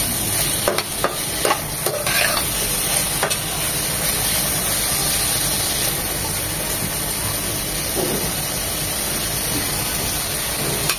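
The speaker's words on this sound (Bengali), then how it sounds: "খুব ভালোভাবে নেড়ে চেড়ে মিশিয়ে নেব।" Vegetables stir-frying on high heat in a pan with ground black pepper and salt for white sauce chicken pasta, giving a loud, continuous close sizzle with repeated scraping stirs throughout.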